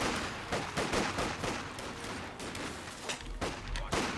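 Rifle fire crackles in a Company of Heroes 2 battle between British and opposing infantry, with a string of quick, faint, irregular shots from a distant-sounding shootout.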